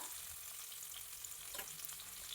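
Chopped onion and green chillies frying in oil after mustard seeds for a Kerala-style brinjal thoran, a steady soft hiss of sizzling with faint stirring, quiet and without speech.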